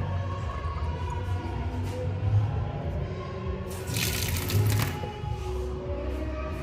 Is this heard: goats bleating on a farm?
no